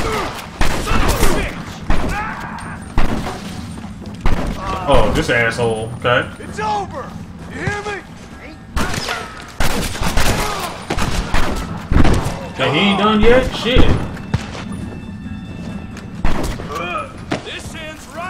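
Heavy gunfire in the video game Red Dead Redemption, with repeated loud shots and booming volleys spread across the scene, mixed with in-game voices and a player talking and swearing over the action.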